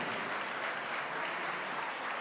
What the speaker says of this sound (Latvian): Pateicamies ar aplausiem dejotājiem par nodejoto tango.